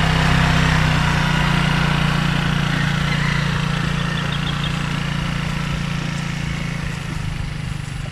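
A small motorcycle engine runs steadily during a beginner's practice ride on grass, a continuous loud mid-pitched drone that holds close throughout and eases slightly toward the end, with no talking.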